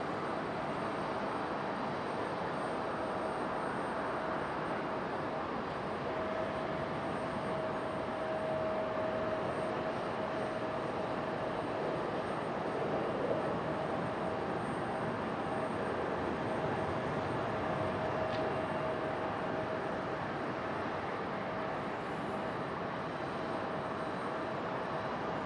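An Aeromexico airliner at Raleigh-Durham International Airport makes a steady, distant broadband jet roar that holds evenly throughout with a faint whine on top.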